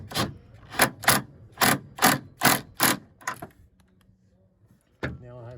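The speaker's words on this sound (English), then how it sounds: "Now here I'm using an impact driver." An impact driver fastens a bolt on an upstand bracket on a tiled roof, hammering out about eight rapid, evenly spaced bursts up close before falling quiet, with a brief knock at the end.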